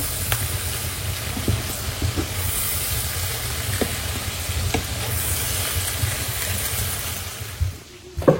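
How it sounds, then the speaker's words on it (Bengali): Sliced bitter gourd fries crisp in a pan with onion and green chili, giving a steady close sizzling hiss with occasional stirring clinks and scrapes, which dies away abruptly near the end. "বেশি করে পেঁয়াজ, কাঁচামরিচ সব কিছু দিয়ে উস্তাটা একটু ভাজি করবো মুচমুচ করে"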